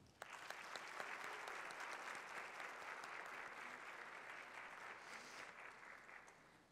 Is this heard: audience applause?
yes